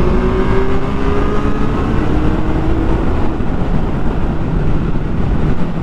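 A motorbike engine drones steadily in sixth gear while riding, with a loud, continuous hum and rushing wind noise and no break in the sound.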